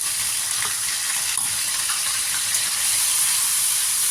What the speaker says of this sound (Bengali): ভালো করে মশলাটা কষিয়ে নিতে হবে।